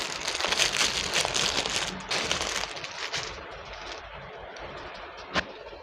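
Packaging crinkles and rustles as a stitched rayon kurta and dupatta set is unboxed. The handling noise is close and irregular, with a sharper crackle near the end.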